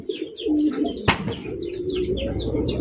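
Large German Polish Shaul pigeons coo close by in repeated soft, throaty rolling calls, with one sharp clap or flutter partway through.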